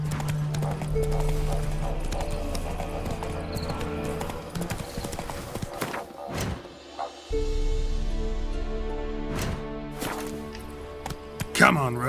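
Roach, a horse in The Witcher 3, gallops in a steady rapid hoofbeat rhythm under a droning engine-like tone, broken by a brief pause and sharp thuds, with a voice speaking over it.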